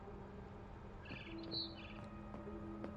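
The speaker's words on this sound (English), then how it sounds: "Then I heard chirping outside my window." Barn swallow chirping in the video game What Remains of Edith Finch, a few faint high chirps over a low steady ambient hum.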